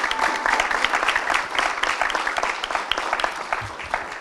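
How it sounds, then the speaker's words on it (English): Audience applause for the speakers at the close of a legal ethics speaker series event, a steady, dense roomful of clapping sustained evenly throughout without talk. "Let's give them another round of applause."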